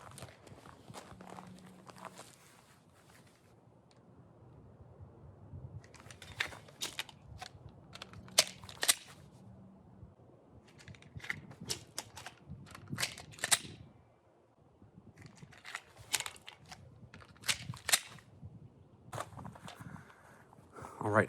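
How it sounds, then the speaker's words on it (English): A pistol handled during dry practice with snap caps, with magazine changes heard as clusters of sharp metallic clicks and clacks separated by quiet gaps, close and moderately loud with no talk. "I'm going to have to feed a new magazine"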